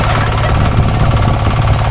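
A tractor engine idles in a loud, steady, close rumble that stays even and unbroken throughout, with no voices over it.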